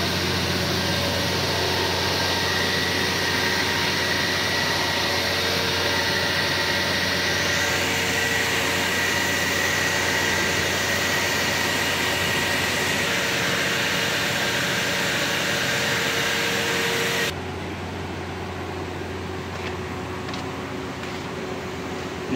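A forklift engine runs steadily at idle with a dense, constant mechanical roar and hum, close and loud, holding an unchanging drone before the noise drops slightly near the end.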